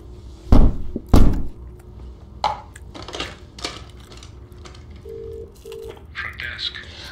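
A telephone is dialed in a hotel room after loud thumps, with two heavy knocks early on, then short electronic tones and higher beeps near the end, while voices talk faintly.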